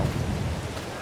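Steady heavy rain pours in the farming game Farming Simulator 22, a dense, loud, even hiss with a low rumble underneath throughout.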